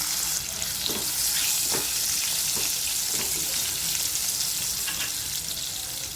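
Red and green chillies fry in hot oil in a pan, making a loud, continuous close sizzle broken by a few soft stirring scrapes and knocks.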